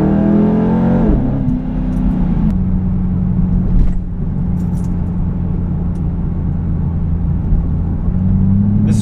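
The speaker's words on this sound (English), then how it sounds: "right now it's running Flowmaster Outlaw, which is, for just an axleback, extremely loud" A 2006 modified Mustang GT idles with a deep, loud exhaust drone through a Flowmaster Outlaw axle-back, steady and close, with a brief rev near the start and faint clicks throughout.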